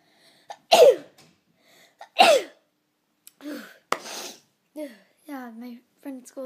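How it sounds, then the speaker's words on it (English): Two sharp sneezes from a child, loud and close, roughly a second and a half apart, then a throat-clearing snort and a voice talking. "Oh, I'm gonna sneeze."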